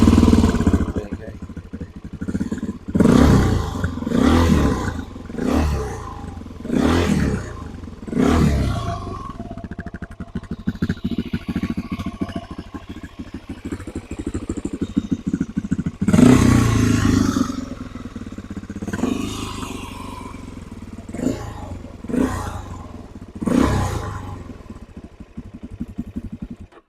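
A Suzuki DRZ 400 SM motorcycle's single-cylinder engine runs close by, idling with a lumpy thump and repeatedly blipped into short revving roars, with occasional clatter and someone talking briefly.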